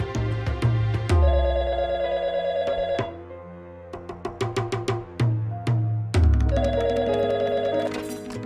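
A telephone rings in a Pakistani drama scene, its repeated bell-like rings set against dramatic background music, loud and close, with no talk.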